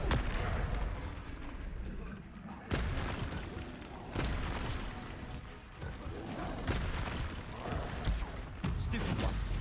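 Repeated Confringo blasting spells in Hogwarts Legacy boom in a dense, continuous stream of sharp bursts and booming impacts over a rumbling battle din, with hardly a pause between casts.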